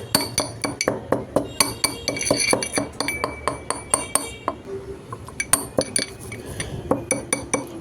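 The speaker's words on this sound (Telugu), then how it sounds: "చాలా వరకు మెత్తగా దంచుకోండి" Masala tea spices are pounded by hand in a mortar, a steady run of sharp, ringing metallic strikes, close and loud, with a short pause midway before the rhythmic clinking resumes.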